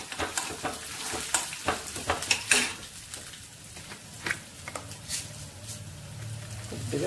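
Chana dal and urad dal fry in a pan for a chutney, a gentle crackling sizzle broken by repeated sharp clinks and scrapes of a spoon against the metal, close by.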